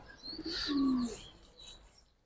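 Giribaz high flyer pigeons make a short, close coo with a few light chirps layered above it, rising and then fading after about a second.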